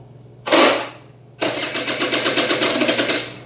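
An old Honda two-stroke engine that would not start gives one brief cranking burst, then catches and sputters into a rough, pulsing run, loud and close with no talk.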